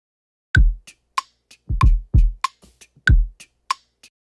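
A beatboxed kick drum pattern, edited in software, plays alone, punchy low thumps spaced in an uneven rhythm with short clicky accents between them.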